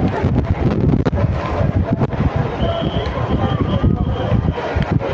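Strong wind during rain in Solan buffets the microphone in a steady, loud rumble with gusty fluctuations, and faint voices can be heard beneath it.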